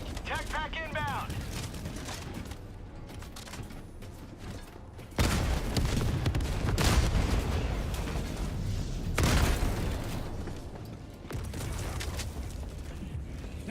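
Heavy explosions from a called-in hellbomb and bursts of gunfire in Helldivers 2 on Helldive difficulty, with loud booming blasts rolling over sustained shooting and a voice briefly talking early on.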